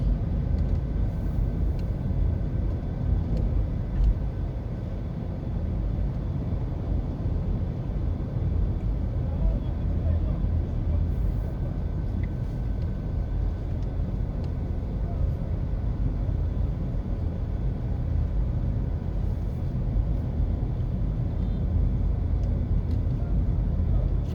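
A car driving slowly around a shopping plaza at Portmore Town Center, a steady low engine and road rumble from inside the cabin, continuous and even, with faint traffic outside.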